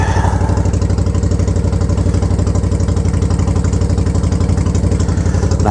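Motorcycle engine idling steadily as it warms up, a loud, close, even low thump that holds the same pace throughout.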